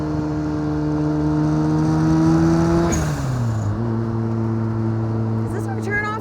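A home-built Lotus 7 replica with a 400 hp turbo RX7 rotary engine drones loudly and steadily under acceleration, its pitch rising and then dropping at a gear change, while people talk over it.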